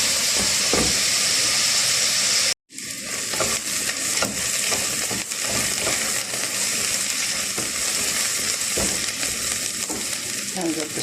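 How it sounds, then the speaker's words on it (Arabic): A chopped large onion sizzles and fries in a spoonful of ghee while being stirred, a steady loud hiss with scraping stir sounds, briefly cut off near the start before resuming continuously. "بقلب البصلة كده"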